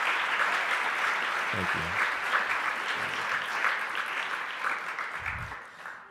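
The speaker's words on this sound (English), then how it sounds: "round of applause" Sustained audience applause from a crowd at a conversation event fills the room evenly, with someone briefly saying thanks over it before the clapping fades out near the end.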